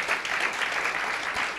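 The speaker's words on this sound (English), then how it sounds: "Please, the round of applause." Audience applause at a poetry festival, a dense, steady clapping from a crowd that fills the whole moment at close range.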